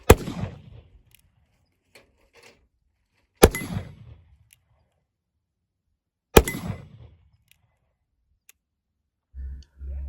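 Three loud, close shots from a .38 revolver firing black powder cartridges ring out about three seconds apart, each cracking sharply and then decaying, with faint clicks between.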